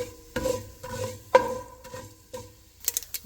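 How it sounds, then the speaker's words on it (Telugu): Cumin seeds stirred into hot oil in a pan with mustard seeds, a spoon scraping and tapping a few times over a faint sizzle, close and quiet. "దాని తర్వాత జీలకర్ర కలిపేద్దాము."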